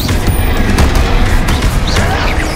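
Confringo and Bombarda spell explosions in Hogwarts Legacy: a loud, chaotic barrage of blasts and crashes run together in a thick, unbroken wall of battle noise, with some voice-like game sounds underneath.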